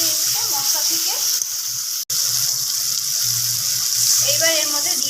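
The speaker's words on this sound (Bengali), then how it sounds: "এইবার এর মধ্যে দিয়ে দেওয়া হলো জল।" Water poured into a pot of frying potato and tomato-paste curry for a chana dal fritter dish, a loud continuous gushing hiss over the sizzle, with a brief dropout midway and faint talk in the background.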